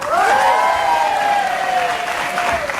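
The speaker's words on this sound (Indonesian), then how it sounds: "Tepuk tangan untuk Ibu Tumira" A studio audience on an Indonesian television talk show claps steadily and loudly throughout, with a ringing tone from the stage carried on top of the applause.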